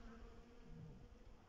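Disturbed honeybees at a beehive make a steady, dense buzzing hum, close and continuous, with no voices over it.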